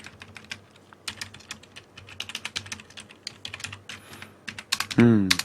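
Rapid clicking of keys on a computer keyboard while coding in C, steady and close, ending with a short burst of louder noise.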